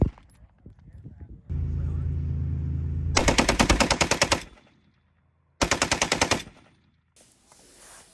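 Rapid bursts of gunfire at a night shooting match, two loud strings of closely spaced shots separated by a quiet gap, preceded by a steady engine-like hum and lighter clatter.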